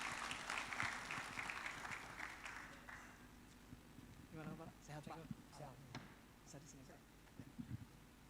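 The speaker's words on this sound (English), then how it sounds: "Give a big applause for Bapak Samsudin." At an international maritime development conference, an audience applauds for about three seconds, then the clapping thins to scattered claps under a voice, with sharp isolated knocks and shuffles afterwards; the sound is fairly faint and roomy.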